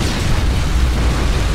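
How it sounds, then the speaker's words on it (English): MOAB killstreak detonation in Call of Duty on the Seatown map: a loud, dense, continuous blast roar with heavy low rumble, steady throughout with no quiet moments. "So I've just called in my Moab"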